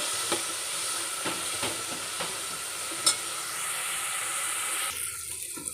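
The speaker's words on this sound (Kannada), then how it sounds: "ಇಲ್ಲಿ ನೋಡಿ ಈ ರೀತಿ ಫ್ರೈ ಆಗಬೇಕು ಟೊಮೆಟೊ ಈರುಳ್ಳಿ." Chopped tomato and onion fry in a pan for a Bangada fish green masala, with a continuous sizzle and regular scraping taps of the spatula as it is stirred, close and clear, with no talking.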